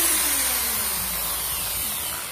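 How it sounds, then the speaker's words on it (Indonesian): An electric drill whirs steadily at full speed, loud and close, a continuous high motor whine that fades slightly at the end, with no one speaking. "setelah mesin bor kita nyalakan atau kita fungsikan"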